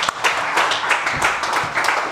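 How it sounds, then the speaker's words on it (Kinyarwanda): Brief burst of dense, loud clapping from a congregation at a church seminar in France, steady and close throughout. "Nous allons vous applaudir."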